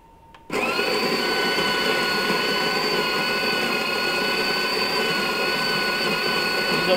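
An electric burr grinder set to a fine espresso grind whirs up abruptly after a moment of quiet and then grinds coffee beans with a loud, steady, high-pitched drone to the end.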